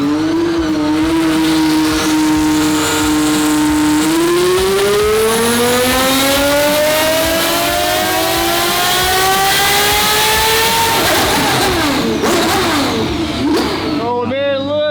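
A twin turbo Ferrari F12 engine revs hard on a dyno, with a loud continuous roar whose pitch holds steady, then climbs smoothly for several seconds before it drops off and cuts abruptly at the end.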